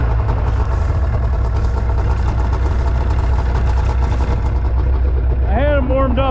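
Snowmobile engine idling just after starting, a steady loud low rumble throughout, with voices talking over it near the end.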